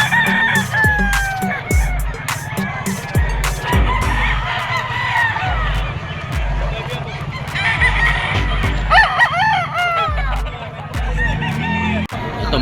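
Roosters crow loudly and repeatedly over steady clucking from many chickens at a crowded outdoor poultry and pet market in Bocaue, Bulacan, with people talking in the background.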